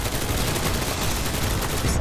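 Dense, continuous gunfire from the video game Enlisted fills the whole stretch, with rapid overlapping shots and heavy low rumble, loud and steady with no pauses.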